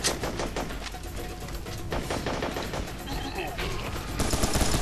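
Dense gunfire in Serious Sam 3 BFE, with repeated loud shotgun-style blasts layered over a continuous barrage of other weapon fire and game action throughout.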